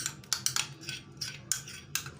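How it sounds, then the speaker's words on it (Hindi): A spoon clinks and scrapes against a container while a hand and foot whitening formula is mixed, giving light, irregular metallic taps in quick succession with no talking. "तो अब हम इसको अच्छे तरीके से जो है मिक्स कर लेंगे।"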